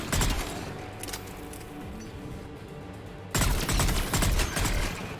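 Gunfire from the video game Mass Effect 3 bursts out in rapid, dense volleys at the start, dies back to a softer ongoing rattle, then surges loud again near the end, with no talk over it.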